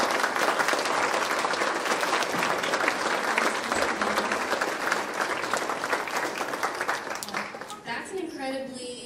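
A large school audience at a senior awards ceremony breaks into dense, sustained applause for new seniors, loud and steady for several seconds before thinning out near the end, with a voice starting to speak as it fades.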